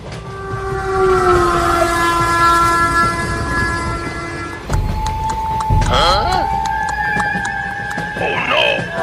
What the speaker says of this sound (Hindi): अब ट्रेन जंगल में से होकर गुजरेगी।